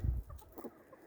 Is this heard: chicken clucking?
yes